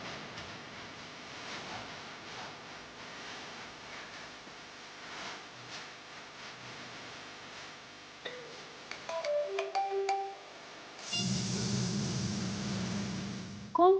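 A phone ringtone chirps out in a short melodic burst in a scene from the Hindi TV crime series CID, following a quiet stretch of low room noise and followed by a louder blare.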